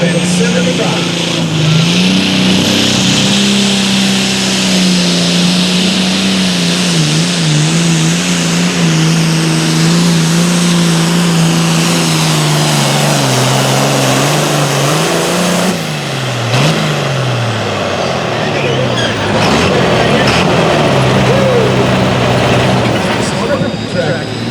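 Super farm tractor at a tractor pull event, engine revving hard with a rising and wavering roar that holds throughout, loud and close, while an announcer talks over it.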